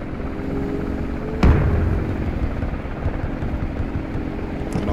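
In the military shooter Squad, a helicopter drones with a continuous low rotor rumble and a steady engine hum, punctuated by one sharp thud early on.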